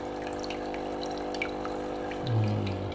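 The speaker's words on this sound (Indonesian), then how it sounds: "Oke, kita isi airnya lagi." Water pouring and trickling into a simple aquascape aquarium tank, filled by hand, a steady watery wash with a low pump-like hum rising near the end.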